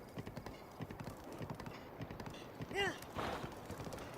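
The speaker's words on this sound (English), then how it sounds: "So, riding on a horse." Steady clip-clop of horse hooves at a trotting rhythm in The Legend of Zelda: Breath of the Wild, with a brief tonal cry partway through and faint voices in the background.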